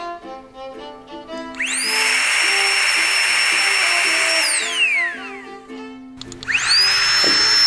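A Frextail Tiny Pump 2X battery blower spins up with a rising whine into a loud, steady rushing hiss, winds down, then starts again near the end.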